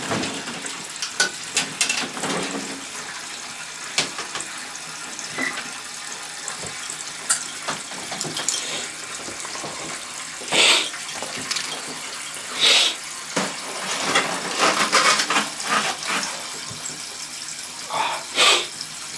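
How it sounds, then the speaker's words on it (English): A toilet flushes with rushing, gurgling water that swells and ebbs, fairly loud and close, with scattered splashes and a few sharp bursts of noise. "I got 6 more flushes."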